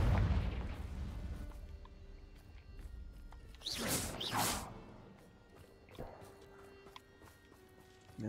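A Confringo fire spell bursts in Hogwarts Legacy with a sharp whooshing blast and crackling flare, a double surge of noise standing out over quiet background game ambience.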